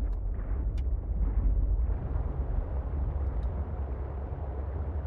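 A low, continuous rumbling roar from exploding ground at purple volcanic vents in the video game Subnautica Below Zero, steady and muffled with a few faint pops over it.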